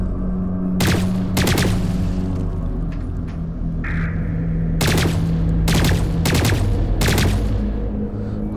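Turret gunfire in the Lost Planet 3 video game, heard as several loud bursts of rapid shots spread across the stretch over a steady low mechanical hum, with no talking.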